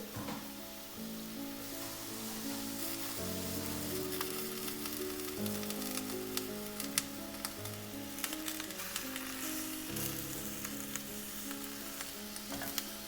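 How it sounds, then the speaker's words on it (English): Shrimp sizzle and brown in a hot pan for fried rice, a steady, close crackling fry that runs throughout with small pops and faint background tones, no talking. "I'm gonna let these sauterate a little bit, a couple of minutes in there, let them brown, toast a little bit"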